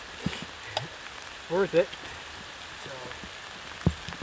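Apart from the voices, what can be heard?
freezing rain falling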